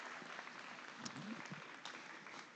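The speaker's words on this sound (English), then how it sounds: "let's congratulate these kids with a big round of applause." Audience applause at an FFA hog showmanship and breeding gilt show at the Nebraska State Fair: a short burst of steady crowd clapping, fairly distant and soft, with faint voices or animal noises mixed underneath.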